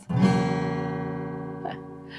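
An out-of-tune acoustic guitar is strummed once, and the chord rings out with clashing sustained tones before a light second touch on the strings near the end.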